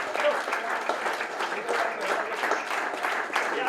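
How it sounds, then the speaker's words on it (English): An audience at a landscape architecture scholarship award ceremony claps for a recipient. The dense, even applause holds steady throughout, with faint voices mixed in. "A round of applause for Ms."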